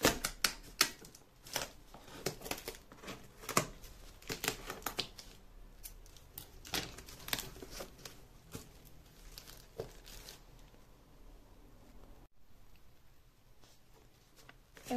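A tightly packed parcel box of books is torn open close by, with sharp tapping, tearing and crinkling of cardboard and packing in irregular bursts that thin out toward the end.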